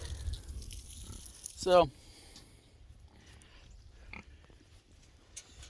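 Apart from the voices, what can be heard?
pigs grunting on a farm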